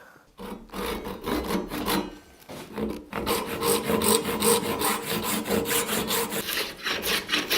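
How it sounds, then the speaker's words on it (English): Maple stock ripped lengthwise with a saw to 7/8 inch thickness, a steady rasping cut that starts after a short pause and runs loud and continuous with rhythmic strokes. "We'll rip our stock now to 7/8 of an inch."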